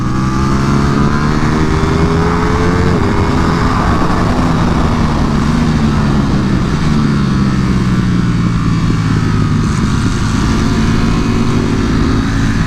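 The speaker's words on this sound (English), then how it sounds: "never would have thought I'd be riding a Panigale V4R, but here I am" A Ducati Panigale V4 R superbike roars steadily on a racetrack, its engine note climbing and falling through gear changes in a loud, continuous drone with no talking.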